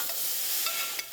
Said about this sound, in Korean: 냄비에 볶습니다